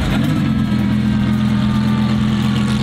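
Lamborghini Super Trofeo Evo 2 race car engine held at a loud, steady high idle, close and constant with a slight rev swell, and no talking.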